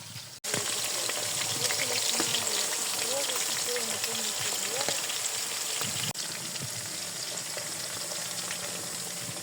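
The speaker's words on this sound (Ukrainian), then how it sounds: "І зараз обсмажуємо м'ясце" Steady sizzling hiss of pork frying in a pan for Georgian ojakhuri with potatoes, close and continuous, with faint scrapes and soft voices underneath.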